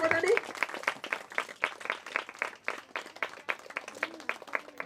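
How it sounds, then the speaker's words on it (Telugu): Guests at a wedding ceremony clap in a fairly quick, even run of distinct claps throughout, with a few voices heard at the start and again near the end. "అందరు గట్టిగా చప్పట్లు కొట్టండి."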